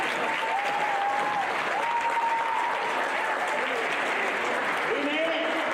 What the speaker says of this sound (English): just a round of applause for all the work your kids have done with it